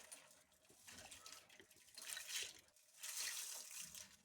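Pasta and oil go into a pot of hot water, making soft, faint splashing and sloshing in two short swells of liquid movement, close by and quiet.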